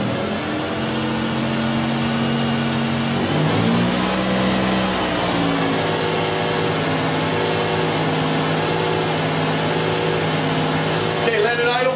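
Engine of a 2000 Lexus RX 300 with a no-start fault, held at raised RPM to warm up: a steady mid-pitched hum with shifting harmonics as revs rise and settle, with voices talking over it.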